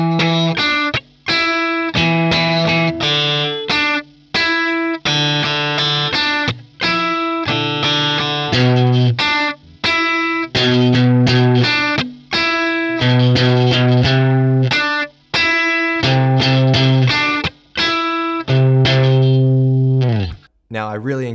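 Electric guitar plays the main riff of a song at slow speed, a loud, close, repeating pattern of muted and ringing notes with short breaks between phrases and no talking.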